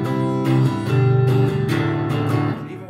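Guitar open chord strummed as a whole block in a rhythm pattern, several full strums ringing with rich harmonics in a close, loud passage with no talking.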